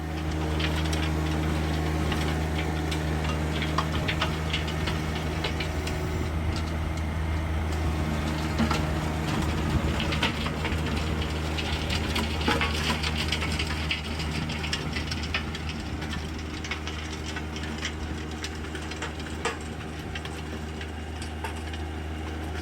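A John Deere 1025R compact tractor drives a 48-inch gear-driven tiller through soil to prepare ground for planting grass, with a loud, steady engine drone and a broadband churning roar throughout and no talking.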